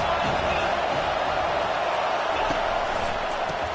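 A stadium crowd at an American football game makes a dense, steady roar of many voices, loud and continuous with no breaks.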